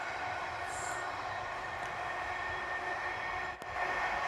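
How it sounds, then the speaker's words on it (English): A train rumbles past nearby, a steady, loud mechanical drone with faint squeals, heard alone. "Train"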